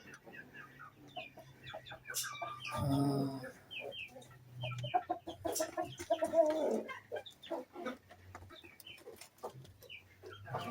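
A breeder rooster on a mini backyard farm crows and clucks, its calls rising clearly above a low steady hum, with a person talking faintly in the background.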